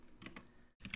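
Computer keyboard typing, a handful of quick, close keystrokes in a short burst with a brief pause near the end, quiet and with no talking.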